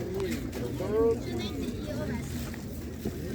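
Pigeons coo softly at a pigeon show in an outdoor animal market, amid a busy crowd with people talking throughout and general chatter and noise around.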